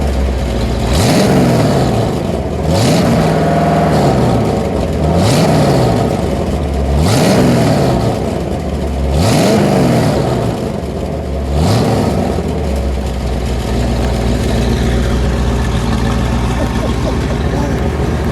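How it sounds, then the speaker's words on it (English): A 1932 Ford custom restomod engine revs repeatedly in rhythmic bursts, about every two seconds, loud and close, then settles into a rough idle rumble. "That's a nasty little revving thing."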